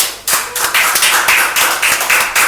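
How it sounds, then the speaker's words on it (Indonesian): A small group claps on an Indonesian talk show: a few sharp, close hand claps settle into a steady, fairly loud rhythmic clapping with no talk over it. "tepuk tangan dulu Mas Fauzi."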